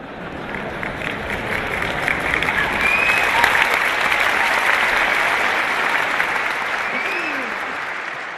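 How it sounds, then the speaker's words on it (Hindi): Seminar audience clapping, a dense, steady wash of applause from a large hall crowd that swells slightly in the middle and continues for several seconds. "बेटे ताली बजा रहे हैं लेकिन पिताजी नहीं।"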